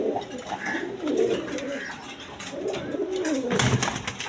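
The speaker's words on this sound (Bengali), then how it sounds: "একদম বিগ সাইজের কবুতর" Big-sized Indian pigeons coo repeatedly, low throaty rolling calls close by, with a steady murmur of background noise.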